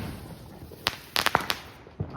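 Several Diwali firecrackers burst in sharp, quick cracks, a lone pop followed by a rapid cluster and one more, over faint background noise.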